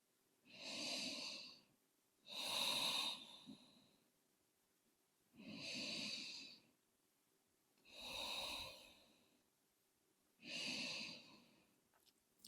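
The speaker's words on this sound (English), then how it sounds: "Breathing deeply here" Slow, deep breaths during a morning yoga stretch, five long inhale-exhale cycles at an even rhythm, close and clear in a quiet room with no talking.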